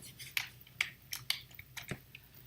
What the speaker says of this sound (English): I'm having a hard time with the freaking keyboard.